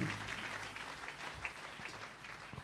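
A church congregation applauds on Palm Sunday, a dense, steady wash of clapping hands filling the room throughout, with faint voices mixed in.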